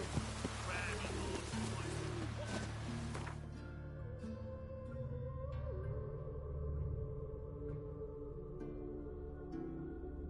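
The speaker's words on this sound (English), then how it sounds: "Must be mad running around in this rain." Rain falls steadily in The Witcher 3, a broad hiss that is heavy at first and eases after a few seconds, continuing under low in-game music and ambience throughout.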